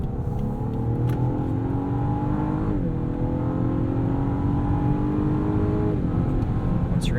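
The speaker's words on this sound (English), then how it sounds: "Pretty nice throttle response. Plenty of power from that twin turbo V6." A 2018 Lexus LS 500 AWD with a 416-horsepower twin turbo V6 and ten-speed automatic accelerates hard from inside the cabin, its engine note climbing steadily with quick shifts dropping the pitch, loud and continuous.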